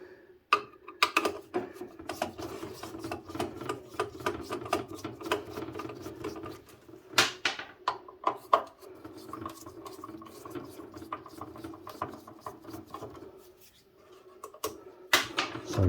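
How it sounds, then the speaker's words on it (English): Screws come out of an amplifier casing in a series of close, quiet metallic clicks, ratcheting ticks and scraping taps with brief pauses between turns. "I was just taking off screws"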